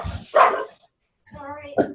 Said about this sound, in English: Did the dog have an answer?